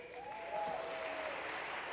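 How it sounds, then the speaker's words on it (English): Steady applause from a sizable crowd, sounding somewhat distant and even, swelling slightly partway through. "Applaud wildly."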